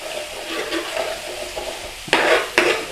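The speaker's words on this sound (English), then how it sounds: "we're going to go in with a couple of tablespoons of tomato puree. Get that stirred in there." A spoon stirs tomato puree into a sizzling chicken tikka madras curry in a pan, with soft scraping strokes and two louder, sharper scrapes near the end.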